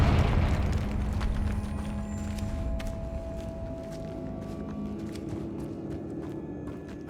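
A Confringo explosive spell in Hogwarts Legacy lands with a deep boom that rumbles and fades over a few seconds, followed by quieter footsteps and faint clicks.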